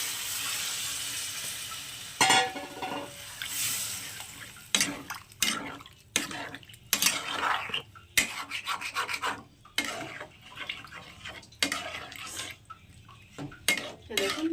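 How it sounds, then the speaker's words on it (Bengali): Warm water poured into a pan of frying shrimp and taro, hissing sizzle followed by repeated metal scraping and stirring against the pan, close and moderately loud. "এবার এর মধ্যে আমি উষ্ণ গরম জল দিয়ে দিচ্ছি একটু পরিমাণ অনুযায়ী"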